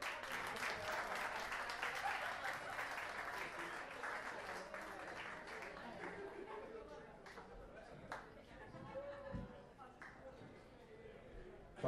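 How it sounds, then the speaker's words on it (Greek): Karaoke-night audience applauding a singer named Vasia, a dense burst of clapping that thins out over several seconds while voices and chatter rise through it. "Ένα χειροκρότημα τη Βάσια."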